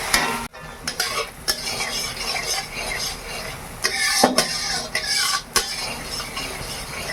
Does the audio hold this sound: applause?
no